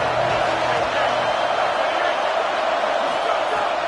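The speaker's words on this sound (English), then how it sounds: "Here comes the noise from this big crowd in Happy Valley on 3rd down" A large stadium crowd at Happy Valley roars steadily on a football third down, a dense, continuous wall of cheering and noise with no breaks, loud and close throughout.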